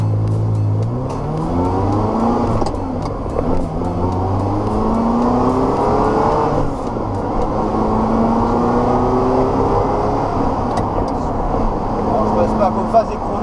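A Ferrari 348 TS engine revs and accelerates through rising gear pulls, loud and close, with someone talking over it in French.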